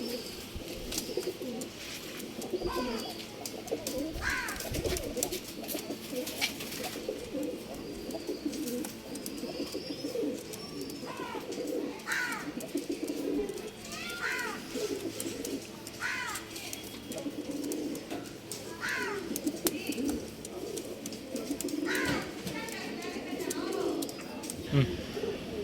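Pigeons coo repeatedly over steady background noise, with a few higher bird chirps mixed in, while someone talks throughout at moderate level, likely at a pigeon sale in Bangalore.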